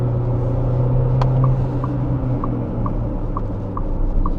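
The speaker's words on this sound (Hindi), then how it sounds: "ओवरऑल अच्छा फील करा रहा है ये इंजन।" A Tata Sierra engine runs steadily while driving, a low continuous drone with faint periodic ticks over constant road rumble from inside the cabin.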